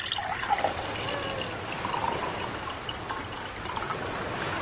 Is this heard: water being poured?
yes